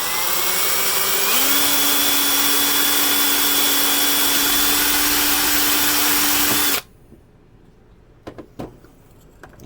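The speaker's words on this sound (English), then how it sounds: "Let's go ahead and drill that top hole out." A power drill boring a hole in a servo mount for a standard-size servo on a Blackjack 42 boat, loud steady whine that rises in pitch and then cuts off, followed by a few small clicks and handling knocks.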